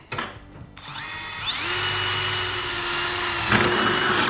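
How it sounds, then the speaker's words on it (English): A power drill whirs up to speed and holds a steady high whine for a few seconds, close and loud, drilling a rivet hole on a jon boat deck. "Whenever you drill your hole out, kind of round it out a little bit."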